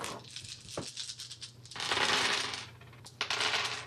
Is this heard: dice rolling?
yes